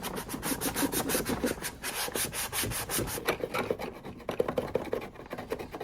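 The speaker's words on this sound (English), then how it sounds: "After hours of sanding and cleaning and scrubbing, this is now what it looks like." Rhythmic back-and-forth rubbing of sandpaper on a vintage wooden jewelry box, close and steady strokes throughout, alone without talk.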